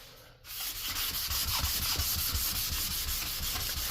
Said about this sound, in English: I probably will turn this way and sand this way against the grain